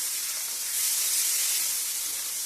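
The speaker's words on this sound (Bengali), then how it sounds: "এখন একটু ভালো করে কষিয়ে নেব আদাটাও কষানো হয়ে যাবে" Ginger, tomato and green chili sauté in a pan, giving a close, steady, even hiss of steam and sizzling with no talking.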